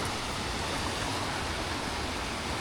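Crayfish Creek pours into the Grose River in the bush, a loud, steady broadband rush of flowing water that stays unbroken and close throughout.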